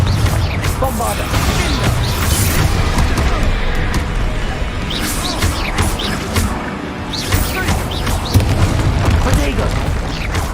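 Confringo and Bombarda spell blasts in the video game Hogwarts Legacy, hard mode combat: dense, continuous loud booms and crashing impacts overlapping in rapid succession, with a voice shouting amid the chaos.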